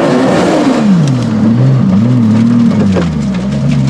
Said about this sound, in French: J'ai pas regardé quelle roue qui a patiné là.